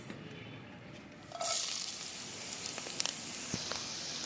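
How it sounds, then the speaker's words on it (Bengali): Onion and green chilli frying in hot oil for fried rice, a soft broadband hiss that jumps louder as the ingredients hit the pan, then a steady sizzle with a few small clicks of stirring. "প্রথমে পেঁয়াজ মরিচটা ভালো করে ভেজে নেব"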